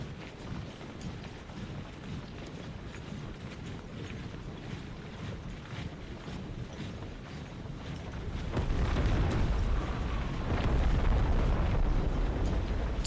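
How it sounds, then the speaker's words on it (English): Artillery bombardment in Empire: Total War, a steady low rumble of distant cannon fire and wind that swells louder after about eight seconds, with heavy booming impacts near the end. "we can start bombarding the terrain"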